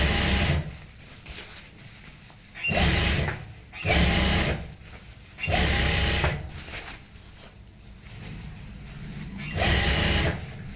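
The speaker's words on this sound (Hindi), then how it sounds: "डबल सिलाई कर लेंगे यहाँ पे पूरे इस पे ताकि अच्छे से मजबूती आ जाए" A sewing machine double-stitches the seams of a homemade zipper handbag in several loud, close bursts of rapid whirring, with quiet pauses in between.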